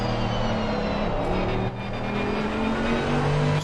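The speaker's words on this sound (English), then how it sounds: "I think the Merc's got one of the best sounding engines in the game for a GT3 car." A Mercedes GT3 race car engine in a racing video game drones steadily at high revs, a loud continuous roar with a brief dip midway, close and without voices.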